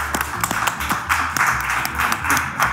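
A small audience claps at Pivot Spirits distillery, irregular close hand claps blending into a brief, moderate burst of applause.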